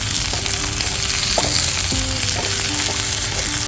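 Red and green chillies sizzle steadily in a pan over a wood-fire stove while a chicken curry is cooked, with a constant loud frying hiss and a few light clinks. No one speaks.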